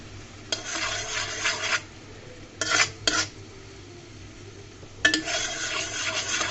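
Sago dessert caramel stirred in a pot, a spoon scraping and swirling in three bursts: a long stretch, two quick strokes, then another long pass, fairly close with quiet gaps between.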